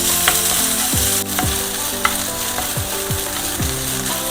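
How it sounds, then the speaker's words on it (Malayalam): Grated coconut fries in hot oil in a pan, giving a steady close sizzle with repeated stirring scrapes and light clinks at a regular rhythm, and no voices. "ഇനി ഇതിലോട്ട് നമുക്ക് ഒരു രണ്ട് ടേബിൾ സ്പൂണോളം തേങ്ങയും കൂടി ഒന്ന് വറുത്തെടുക്കണം"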